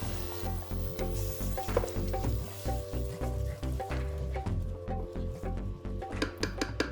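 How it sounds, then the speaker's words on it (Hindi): Spices and whisked yogurt fry in a tomato gravy, giving a steady close sizzle broken by rhythmic stirring scrapes, with no voices over it. "आपके मसाले भी भुन रहे हैं और साथ में दही का कच्चापन भी मर रहा है"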